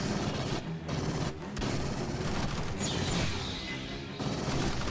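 Sentry turrets in the Aliens: Fireteam Elite video game firing in a dense, sustained automatic burst. The rapid gunfire runs loud and nearly continuous, with a couple of brief gaps, amid chaotic combat noise.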